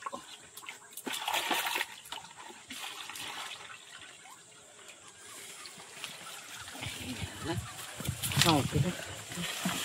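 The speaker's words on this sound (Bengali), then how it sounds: "এর ভিতরে একটু জল দিয়ে দেবো" Water is poured into a container holding snails, splashing and trickling in bursts and growing louder toward the end, with a voice talking over it.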